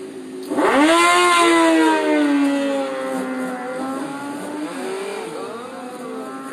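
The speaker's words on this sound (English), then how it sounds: "they got motor scooters for Christmas" Motor scooters ride by on a Detroit street on Christmas Day, engines whining loudly at first with rising and falling pitch, then settling into a steady, slightly quieter drone as they pass.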